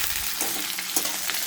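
Onions and capsicum fry in a pan with a dense, even sizzle throughout, broken by a couple of soft spatula scrapes, close and unvoiced.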